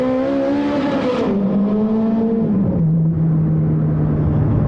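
A Ferrari 430 Scuderia V8 accelerates close by, its loud engine note rising and then falling through gear changes, with the pitch stepping down after each shift and a steady rasping roar throughout.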